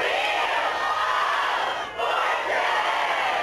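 Big crowd gathered at a shopping town center for Wheel of Fortune audition day, a steady roar of many voices and cheering with a brief dip midway, no single speaker standing out.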